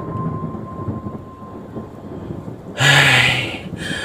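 Heavy rain hisses softly before a loud, sudden clap of thunder bursts in near the end and rumbles briefly, with no voices.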